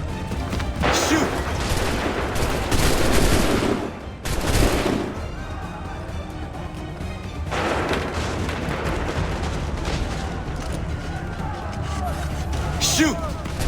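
Soldiers in Assassin's Creed III fire a musket volley, loud crashing blasts in several bursts with heavy rumbling between them and voices shouting over the battle.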